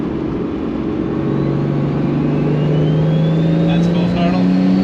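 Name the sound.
Toyota Supra engine revving at full throttle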